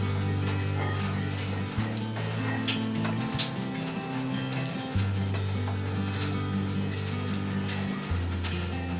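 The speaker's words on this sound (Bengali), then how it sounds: "এভাবে ব্রাউন কালারের করে আমি এগুলো সব ভেজে নিচ্ছি।" Puffed rice pakoras fry in hot oil, giving a dense, continuous sizzle with crackling pops and a low background hum, steady for several seconds with no talking.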